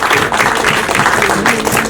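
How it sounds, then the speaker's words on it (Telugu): Audience applause at a movie pre-release event for the film Motherland, a steady wash of clapping from a crowd filling the whole moment, fairly loud and continuous with no speech over it. "గట్టిగా ఒకసారి చప్పట్లు పెడితే బాగుంటుంది."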